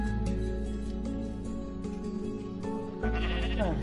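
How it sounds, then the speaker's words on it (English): Sheep bleating in the video game Minecraft, a drawn-out wavering baa followed by a second, louder bleat near the end, loud and close with no talking over it. "we got 4 sheep."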